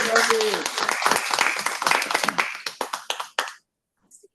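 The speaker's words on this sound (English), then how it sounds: "The way you clap at Pecten Toastmasters, I wholly admire it." Audience clapping at a Toastmasters club meeting during a festive holiday gathering, a dense burst of applause that thins into scattered individual claps before stopping, with a few faint sounds after.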